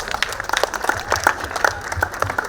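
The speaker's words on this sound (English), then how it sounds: "Can we have a huge round of applause?" Audience applause at a book fair storytelling session in Shillong, a moderate scatter of hands clapping with uneven, distinct claps standing out, heard fairly near.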